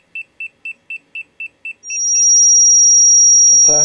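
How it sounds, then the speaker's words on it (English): A hertz (frequency) meter reading about 600 hertz on a Joule inverter circuit beeps seven times in an even, quick rhythm, high and clean, then falls silent as a steady high whine and some faint rustling take over. "my hertz meter is beeping"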